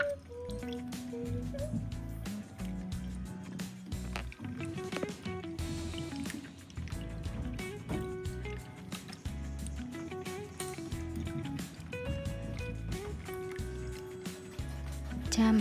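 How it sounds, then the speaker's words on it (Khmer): Water is poured into a bowl of strawberry pudding powder being stirred to dissolve, giving soft drips and liquid trickles beneath steady background music. "ទើបយើងចាក់ទឹកតាមក្រោយ"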